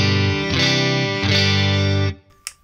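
Clean electric guitar on the neck pickup, run through a Behringer UC200 Ultra Chorus pedal: three strummed chords ring full and close, the last one sustaining before it is muted, followed by a soft handling click.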